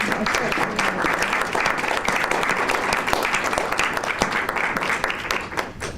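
Attendees at an early education and care board meeting break into loud, sustained applause, a dense unbroken wash of clapping from many hands that holds steady throughout.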